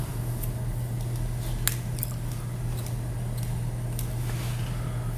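Scissors snip through a feather stem while tying a cicada skater fly, a few small crisp clicks standing out against a steady low hum, close and faint.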